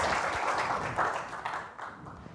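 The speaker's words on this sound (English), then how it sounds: "Everyone clap for the clever person." A church congregation applauds together during a Sunday service, a dense, steady wash of clapping that gradually thins and fades toward the end.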